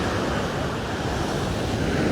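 Ocean waves breaking close to the shore at a beach in Tavira, a steady, loud wash of surf filling the whole stretch with constant roaring noise and some wind buffeting the microphone.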